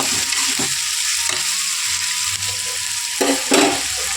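Egg fried rice sizzling in a pan, a loud, close, steady hiss of frying with a few scraping stirs and knocks scattered through.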